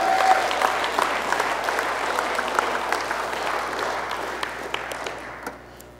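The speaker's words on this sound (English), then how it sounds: "Give the Lord a hand clap if you believe that today." A church congregation claps hands together in a broad, sustained round of applause during a sermon, loud and dense at first and gradually thinning out toward the end.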